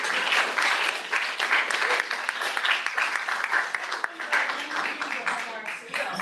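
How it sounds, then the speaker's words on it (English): Applause from the audience at a town board meeting, steady and fairly close, lasting the whole stretch with some voices mixed in and tapering slightly near the end. "You can clap again for that."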